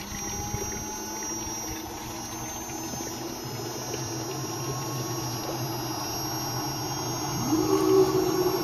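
A 2 hp DC solar water pump runs on its first test in Panabingan, San Antonio. A steady electric hum and whine drone throughout, and a rougher surge rises near the end.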